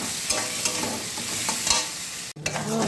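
Onion and tomato fry in a pan while being stirred, a busy sizzle with scraping stir strokes close up, briefly cut off near the end before resuming.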